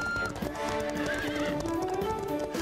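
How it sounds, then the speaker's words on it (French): Racehorses gallop with rapid, continuous clip-clop hoofbeats while repeated neighs and whinnies rise and fall over them, loud and busy throughout. "Où sont mes chevaux de course? Ils sont partis par là."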